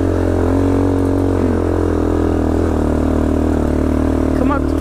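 Motorcycle engine running at a steady drone on a dirt trail near a house, constant and close with no pauses, droning on through the whole stretch.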